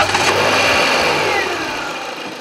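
A Renault Fluence's 1598 cc 16-valve twin-cam four-cylinder engine runs steadily with a loud, dense mechanical drone and hum, easing off slightly toward the end, heard close with no voices.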